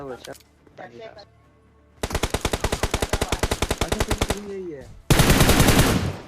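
Rapid automatic gunfire in the BGMI battle royale game rattles out in a long, loud sustained burst, followed by a denser closing volley, with a voice talking briefly at the start.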